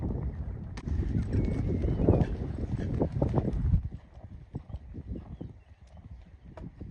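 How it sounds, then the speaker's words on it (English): Rhythmic hoofbeats of a cantering horse over jumping poles, fairly close, with a short sharp guttural intake of breath in the first stride. "listen to the slightly in-sharp breath he takes over the first set of poles, like a guttural noise"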